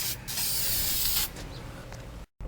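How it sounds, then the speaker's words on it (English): Silicone spray lubricant hisses steadily from a can onto the O-ring of a Pentair 2000 Series pool filter, one long loud spray and then a weaker continuing hiss that cuts off briefly near the end. "The magic lube or the silicone spray."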